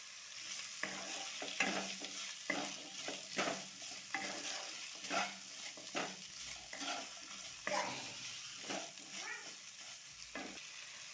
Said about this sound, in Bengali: এবারে আলুটা আমি একটু ভালো করে ভেজে নেব